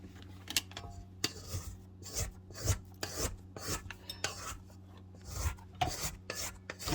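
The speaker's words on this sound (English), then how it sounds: "I'll just scrape down the edges." A spatula scrapes down the edges of a bowl of gluten-free white bread dough, producing repeated close-up rasping scrapes and soft knocks at an irregular rhythm over a low background hum.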